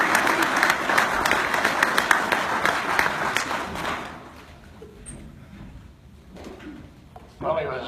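Audience applause at a baseball hall of fame induction ceremony, a dense burst of clapping filling the hall for about four seconds before fading into quieter room noise.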